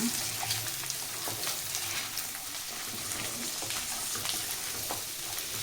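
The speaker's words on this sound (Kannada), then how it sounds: "ಆನಿಯನ್ ಒಂಚೂರು ಫ್ರೈ ಮಾಡ್ಕೊಂಡ್ಬಿಡೋಣ" Two medium onions frying in butter in a pan for paneer butter masala, a steady close sizzle with faint stirring scrapes running evenly throughout, no talking.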